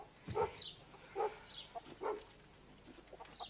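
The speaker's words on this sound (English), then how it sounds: "We'll go and see what that dog's up to." A dog barks outdoors, three or four short, faint woofs spaced about a second apart, somewhat distant, with soft background noise.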